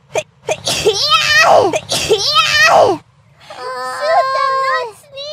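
Two sharp sneezes in quick succession from a voice, loud and close, followed by a short high-pitched exclamation; a voice talks around them.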